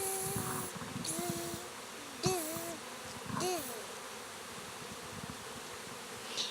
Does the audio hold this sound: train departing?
no